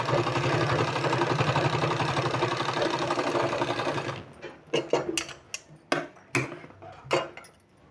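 A sewing machine stitches a sleeve design with a fast, even mechanical whir for about four seconds, then stops, followed by scattered light clicks and handling taps.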